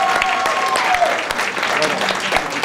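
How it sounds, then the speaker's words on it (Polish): An audience at a small tech meetup panel discussion in Kraków claps loudly and steadily, a dense burst of applause with scattered sharp claps, close and filling the room. "Duże brawa dla Webshake Stronniczy."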